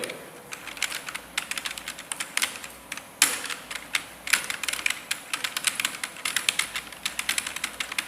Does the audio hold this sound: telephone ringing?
no